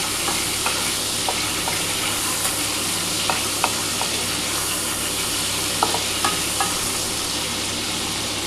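Potatoes frying in a pan with whole cumin seeds and dried chili give a steady, close sizzle with occasional stirring clicks and scrapes throughout, no voices.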